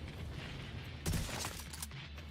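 Sniper rifle shots in a video game: a sharp burst of gunfire lands at once, followed by a brief rattling trail, set against a low steady background hum.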